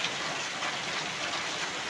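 Sudden heavy rain falling in a steady, dense wash of noise, constant and fairly loud for the whole stretch, with no voices.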